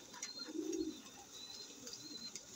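A single soft coo from a pet racing pigeon, brief and fairly close, with faint chirps and ambient outdoor noise around it.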